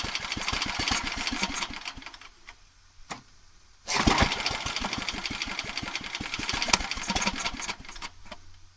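A farm engine with a carburetor problem runs roughly, its rapid uneven firing surging, nearly stalling and cutting out for a moment before catching again and chugging on, loud and close with no talk.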